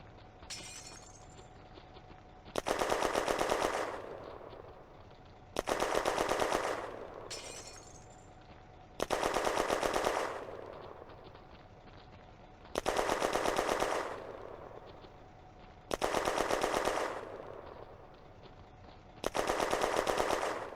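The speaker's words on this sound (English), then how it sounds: "The Char B1 bis locates and engages the German heavy machine gun crew." A Char B1 bis tank fires on a German heavy machine gun crew in a May 1940 wargame battle: seven sharp, loud bursts of rapid fire, each with a crackling, shattering edge and a fading tail, separated by short lulls.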